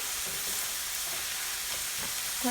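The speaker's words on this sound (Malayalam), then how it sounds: "ഇനി അത് നന്നായി ഒന്ന് വഴറ്റിയെടുക്കണം" Onions and green chillies sautéing in a pan for a Kerala-style egg curry, giving a constant hissing sizzle close by with faint stirring, uninterrupted by speech.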